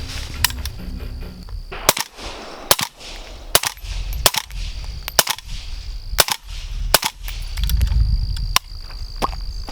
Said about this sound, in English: this guy right here, Outlaw Josie Wales, run this gun with subs in it so you guys can hear